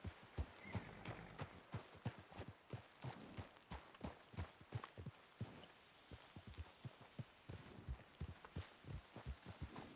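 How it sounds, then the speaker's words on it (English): Rhythmic clip-clop of horse hooves at a steady trot in Red Dead Redemption 2, close and fairly quiet, continuing without pause. "Horse gets spooked again."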